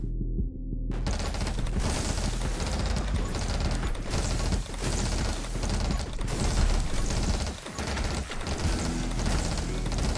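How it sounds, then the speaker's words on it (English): Rapid gunfire in the video game 20 Minutes Till Dawn: a dense, continuous stream of shots thuds and rattles loudly with throbbing low booms, unbroken for about ten seconds after a brief quiet start. "Do we rapid fire now? I think we rapid fire."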